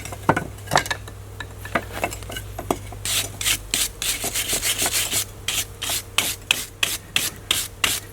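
Old mortar scraped and rubbed off a salvaged brick, a rough rasping that starts sparse and then turns into a rapid, steady run of gritty strokes, close and alone with no talking.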